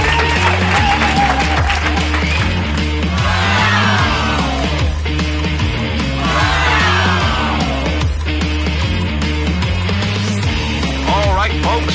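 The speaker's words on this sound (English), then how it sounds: "Come on, folks, let's hear that applause." Crowd applause and whooping in the BioShock video game, set in Rapture during a live broadcast stage show, loud cheering voices mixed over strong continuous music with rising yells in bursts.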